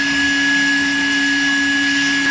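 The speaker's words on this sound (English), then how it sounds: "These are the elegant cord carpets, so you need to vacuum it only." A vacuum cleaner runs steadily over the cord carpets of a Tata Altroz car, a constant loud droning whine with a high pitched motor tone and no voices.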